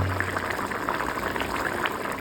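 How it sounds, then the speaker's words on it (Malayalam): A pot of fish curry with ripe mango boils close by, bubbling steadily in a dense, continuous simmer. "ഇങ്ങനെ നമ്മുടെ മാങ്ങാപ്പഴം ഇട്ട മീൻകറി ഇങ്ങനെ തിളച്ചുകൊണ്ടിരിക്കുകയാണ്"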